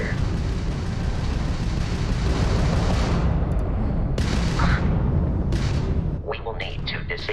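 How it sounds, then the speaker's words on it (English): Crimson Fleet ship weapons fire in Starfield space combat: a dense, continuous barrage of booming blasts and rumble, loud and sustained, with sharper bursts toward the end as the intensity drops slightly. "that's a Crimson Fleet ship bringing its weapons to bear"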